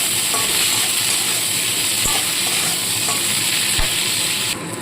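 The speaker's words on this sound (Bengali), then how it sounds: "পেঁয়াজ কুলিগুলো হালকাভাবে ভাজবো" Onion flower stalks fry lightly in oil, a loud, continuous sizzle broken by two or three sharp spatula knocks against the pan.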